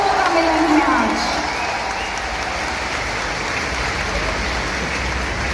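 A large crowd at an Indian public ceremony claps in a dense, even roar that swells at the start and then holds steady, with a voice briefly audible over the first second.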